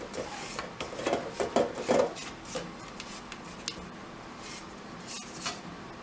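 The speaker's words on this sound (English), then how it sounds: "I'm going to come back through, and you know me, I'm going to scrape this bowl again" A spatula rasps around a mixing bowl of Southern teacake batter, with a burst of close scraping strokes early on that then fades to lighter, sparser rubs.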